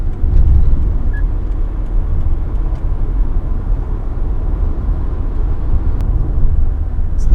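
Steady, loud road and tyre noise roars inside a car cruising at about 100 km/h, with the floor and trunk sound-deadened. It stays constant and rumbling throughout, with no talk.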